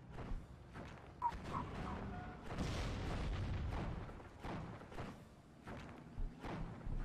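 Bofors anti-aircraft gun firing in Steel Division 44, a string of dull booms and thuds spread across a busy battlefield mix, with scattered bursts and explosions rising and falling under commentary.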